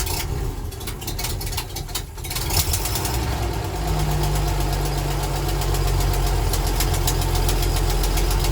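A vintage fire engine of more than 60 years starts after an oil change, turning over and settling into a loud, steady, knocking idle rumble close by, with no talking.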